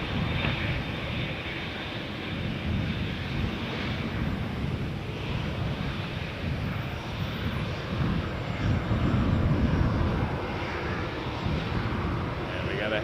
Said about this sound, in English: But first we got Rouge. 1646 headed to Miami on an A319.